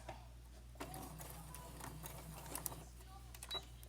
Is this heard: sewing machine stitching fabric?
yes